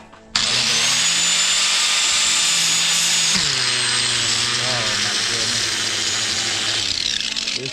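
A powered wood grinder or chainsaw cuts wood in a home workshop that has no bandsaw, giving a loud, steady high whine that starts abruptly and then dips in pitch as the tool bites into the wood.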